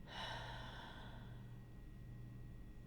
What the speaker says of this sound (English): Hold it and exhale